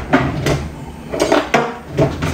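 Pempek fish cakes stirred in a pot of boiling water, with a utensil clinking and scraping against the pot in several short, separate strokes. No one speaks.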